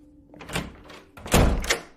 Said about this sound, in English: Locked the door.